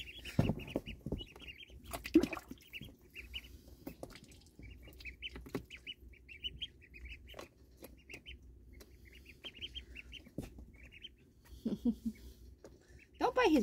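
Chickens and ducks near water cluck and chirp in scattered short bursts, with sharp knocks and splashy thumps between them and someone talking intermittently nearby.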